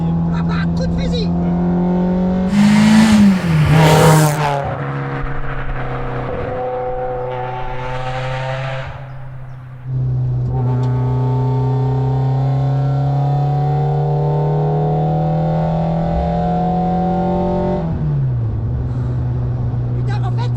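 Car with a Renault F7P/F7R engine revving and accelerating from inside the cabin, a loud sustained engine drone rising through the gears, with people talking over it early on.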